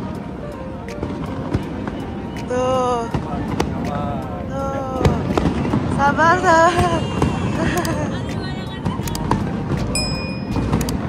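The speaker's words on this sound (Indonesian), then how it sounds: "Lagi ngetes nih guys, ngetes kembang api." Fireworks are test-fired near Fullerton in Singapore: a scatter of sharp pops and crackling bursts at mid distance, heard under people talking and calling out nearby.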